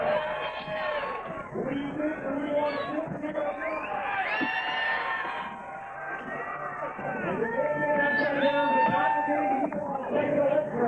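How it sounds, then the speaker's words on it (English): A crowd cheering and shouting at the 1996 X Games inline vert finals, loud swelling roars in waves under an announcer's excited commentary. "He's got the crowd going, listen."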